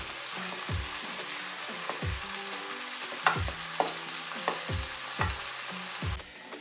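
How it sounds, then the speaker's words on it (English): Rice added to a small frying pan for pineapple shrimp fried rice sizzles steadily while a utensil scrapes and stirs in repeated strokes, close and moderately loud. "Now I'm adding the rice."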